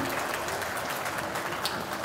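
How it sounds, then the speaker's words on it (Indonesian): Applause for a team at the launch of an IT-based police innovation, attended by the Jakarta governor; a brief, dense wash of clapping from an indoor audience, steady throughout. "Jadi saya tepuk tangan untuk tim."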